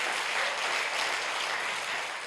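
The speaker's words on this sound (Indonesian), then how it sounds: "ya tepuk tangan gratis gak bayar" A church congregation at a Thursday service breaks into continuous applause, a dense, even roar of many hands clapping together, loud and sustained throughout.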